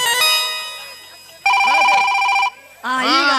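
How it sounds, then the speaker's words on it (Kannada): A telephone ringtone plays in bursts: a sustained melodic ringing, a pause, then another ringing phrase, loud and close with no talk over it. "ಎತ್ತು ಒಳಗೆ ರಿಂಗ್ ಆಗದೈತಿ"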